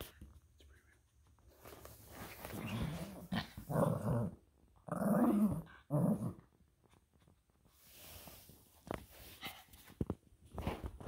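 A dog growls during a game of fetch in a basement, giving several low rumbling growl bursts close by, with footsteps and faint scuffling between them.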